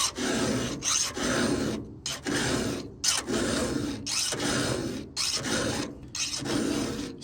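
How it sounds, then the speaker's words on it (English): Husqvarna 500i chainsaw chain being hand-filed, steady rasping strokes in a regular back-and-forth rhythm of about seven passes, each separated by a brief gap, close and fairly loud with no talking. "So this is kind of a cleanup filing, but I'm actually pulling gullet."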